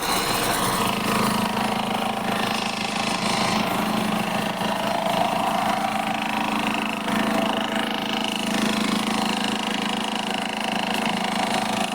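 A Mahindra Xylo engine idles steadily at low revs, a constant mid-pitched drone with slight vibration, heard close up with no talking.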